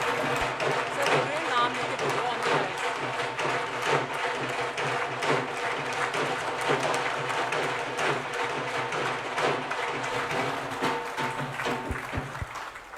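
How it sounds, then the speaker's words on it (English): An audience at a corporate conclave claps to welcome guests onto the stage, a busy, moderately distant spread of many hands that persists throughout and thins slightly near the end. "Welcome them with a huge round of applause."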